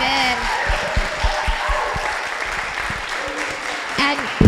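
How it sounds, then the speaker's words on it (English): An audience applauds panelists at a Women's History Month leadership event, a steady wash of clapping with a few sharper nearby claps and some voices underneath. "another round of applause for our wonderful panelists"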